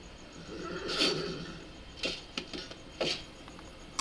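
A horse whinnies loudly near the start in the video game Legends of Eisenwald, followed by a few short scraping and thudding effects, with no talking.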